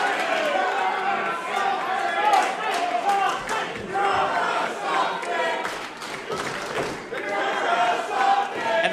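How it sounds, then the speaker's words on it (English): Crowd at a live college wrestling event chants and cheers loudly in rhythmic waves, with an announcer talking over the arena noise. "And the crowd chanting, "You're a something.""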